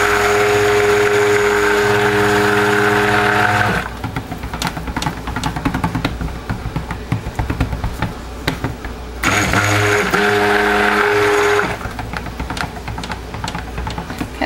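A stick blender churns orange-scented soap batter, loud whirring bursts alternating with pauses full of rattling and scraping in the container, the motor starting twice.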